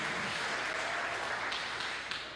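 A church congregation claps during a Sunday service, a steady, dense wash of applause that stays quiet and even throughout, with no single claps standing out.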